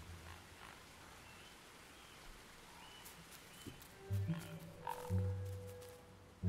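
A big frog in The Last Campfire video game gives a few low, resonant croaks in the second half over a quiet ambient background.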